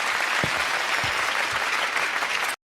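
Audience applause for an artist, a dense, steady wash of many hands clapping at moderate volume that cuts off abruptly near the end.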